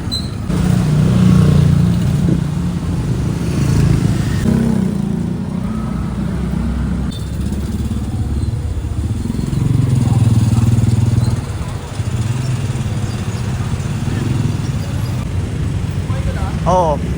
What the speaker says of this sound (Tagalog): Sakay na tayo ng tricycle,